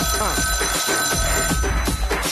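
A telephone bell rings loudly and continuously in a TV quiz show booth, its bright metallic trill sounding over a busy background.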